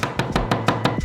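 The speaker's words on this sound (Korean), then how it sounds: "껍질을 벗기고 도마에서 잘게 칼로 썰어주세요." Peeled garlic is chopped finely with a knife on a cutting board, six or seven sharp, even chops in quick rhythm, close and loud with no talk.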